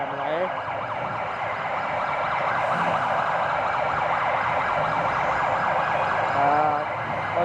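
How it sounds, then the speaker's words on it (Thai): An emergency vehicle siren wails steadily on a busy city street after a concert near a stadium, loud and close, with a rapid repeating warble that continues throughout over faint traffic and crowd noise. "มีเสียงร้องเสียงหวออะไรด้วย"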